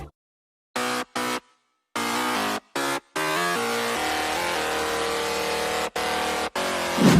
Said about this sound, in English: for the bass I also find a nice sounding presets that Marshmello always used